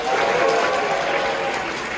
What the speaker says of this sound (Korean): 행복한 결혼식을 여러분들의 큰 박수와 환호성으로 시작하겠습니다.